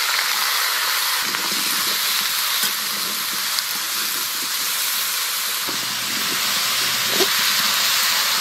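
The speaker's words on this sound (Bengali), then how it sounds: "কড়াই সরষের তেল দেবো, আলু আর লাউ দিয়ে দেবো" Potato and bottle gourd frying in mustard oil in a wok, a steady loud sizzle and hiss with occasional stirring scrapes, running throughout with no talk.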